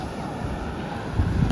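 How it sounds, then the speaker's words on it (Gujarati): Sea waves breaking on the shore give a steady broadband wash with wind noise buffeting the microphone, swelling slightly toward the end. "અહીંયા કાંઠે આવતા મોજા વધારે ભાંગે છે"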